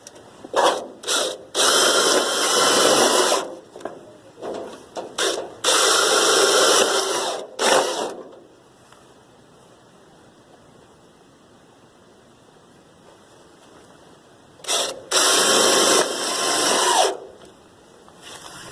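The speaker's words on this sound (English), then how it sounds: "we are just going to put maybe three of these self-tapping screws in the section of it that's flat" A power drill drives self-tapping screws into metal roofing brackets for a raised garden bed, heard as several loud, close whirring bursts with short gaps, then a quiet stretch before one more long burst.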